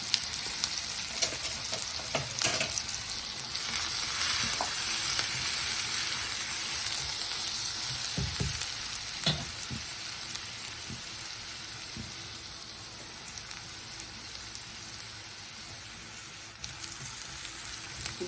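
A paste of ground dried red chilies, cumin, ginger and garlic fries in hot oil in a pan for cluster beans fry, a steady close sizzle with a few soft stirring scrapes and no talking.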